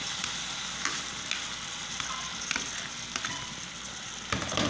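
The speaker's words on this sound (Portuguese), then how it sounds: "estou fazendo um bife aqui acebolado, que é para o almoço" Steak with onions and seasoning frying in a pan for lunch, a steady close sizzle with faint crackles and occasional soft clicks of stirring.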